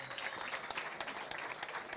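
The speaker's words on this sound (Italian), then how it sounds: "farei un grosso applauso alla base del calcio dilettantistico" Applause at an amateur football awards gala, a crowd clapping steadily and densely for the full stretch, close and lively.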